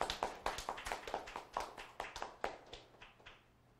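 A church congregation claps in thanks, a sparse run of sharp, quick hand claps at moderate distance that thins out toward the end, with no voices over it.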